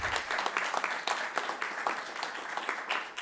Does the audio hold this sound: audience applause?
yes